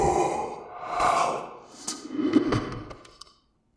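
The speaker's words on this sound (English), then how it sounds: "I heard that heavy, distorted breathing clear as day right behind me." Heavy, distorted breathing sounds close behind the listener, a few long rasping inhales and exhales with snort-like catches, fading out into silence at the end.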